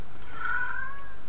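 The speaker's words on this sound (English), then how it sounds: "That was a cat meowing." A single drawn-out cat meow, loud and close, rising slightly then fading, with no voices around it.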